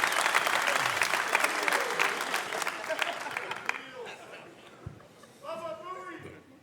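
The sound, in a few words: live audience clapping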